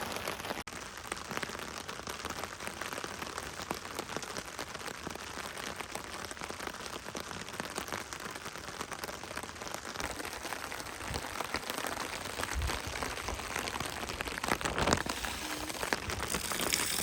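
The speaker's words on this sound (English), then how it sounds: "Rain's really picking up." Heavy rain pours steadily onto a camp shelter beside a cooking fire in the woods, a dense, even patter that grows a little stronger toward the end, with no voices.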